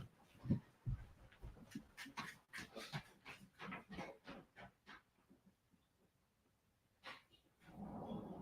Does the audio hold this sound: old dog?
yes